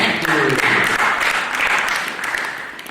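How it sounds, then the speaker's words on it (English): An after-prom crowd applauds hypnotist show participants with a burst of clapping that tapers off, a voice briefly audible at the start. "Everyone, big round of applause for them and for the magnificent Murray"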